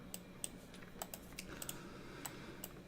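Soft, irregular keyboard clicking from a puzzle video game, steady tapping with sharp individual key hits at low volume and no talk.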